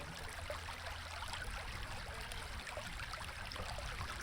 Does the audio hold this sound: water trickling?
yes